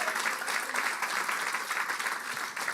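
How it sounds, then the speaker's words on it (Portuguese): Church congregation applauding God during a sermon, a dense, steady wash of clapping that carries on unbroken for a few seconds without voices over it. "Dá para aplaudir a Deus?"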